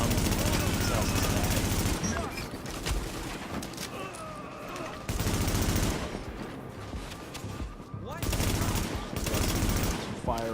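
Gunfire in The Division's Dark Zone, with bursts of shots that come and go over a dense game mix of music and effects, heard alongside faint talk.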